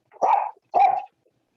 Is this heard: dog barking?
yes